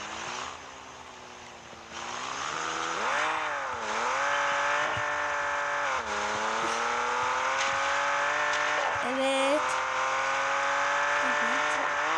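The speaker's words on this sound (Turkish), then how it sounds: "öyle ne diye drift atıyor be?" A car drifting in the Car Parking Multiplayer video game: the engine revs rise and fall in sweeping pitch while tires squeal in long skids, loud and continuous through the run.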